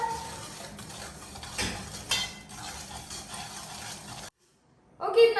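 Milk powder and sugar being mixed into milk in a pot, with a spoon clinking and scraping against the vessel in uneven bursts, then a brief silence and a final loud clatter.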